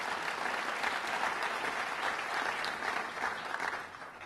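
A crowd at the governor's budget address on Staten Island claps for an assemblyman, a steady, dense wash of applause heard from a distance that holds throughout and eases slightly at the end.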